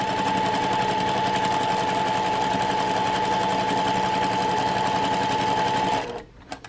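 A sewing machine stitches a quarter-inch seam on a lined fabric face mask, running in a fast, steady, close rattle for about six seconds before stopping abruptly.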